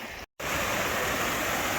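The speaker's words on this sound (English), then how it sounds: "little waterfalls" A small waterfall on a Peak District hillside gives a steady, close, broadband rushing hiss of falling water that continues after a brief cut near the start, with no voices.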